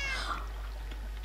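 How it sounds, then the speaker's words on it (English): A pet cat in Minecraft gives one short, high, close meow at the start, and a faint hum lingers after it. "And this is my little cat."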